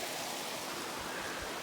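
Running water rushes steadily beside a shady spot in the hot desert, a soft, continuous broadband wash heard alone and fairly faint.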